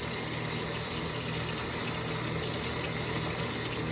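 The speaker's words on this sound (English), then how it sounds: "We're going to rinse that really well." Running water rinsing soap off personal protective equipment during decontamination, a steady close hiss of flowing water with no pauses or voices.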